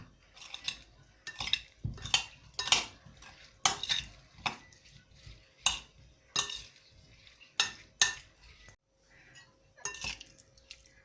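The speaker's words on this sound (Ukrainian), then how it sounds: "Добре перемішую." A series of scraping clinks and taps as a utensil stirs and tosses marinated beetroot salad with garlic and oil in a bowl, repeated in uneven bursts with short pauses between.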